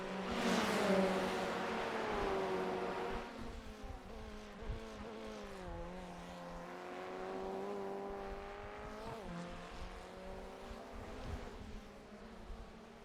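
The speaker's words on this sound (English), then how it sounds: "You can hear an idle from the Formula Ford." Formula Ford race car engine in the iRacing sim at Sandown, idling and revving in a buzzing tone with rising and falling pitch sweeps and gear changes, steady and fairly close, with no talk over it.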